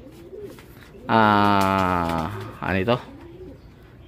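Racing pigeons returning to the loft after a release, with a long loud close bird call followed by a shorter second one, while someone speaks briefly nearby.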